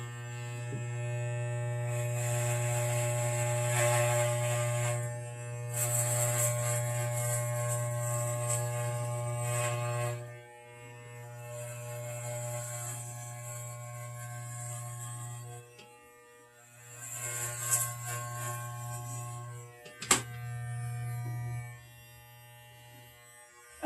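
Electric hair clippers fitted with a 3 mm guard buzz close up while shaving a head, the steady drone running in long passes with short breaks and changes in tone as the blades move through hair.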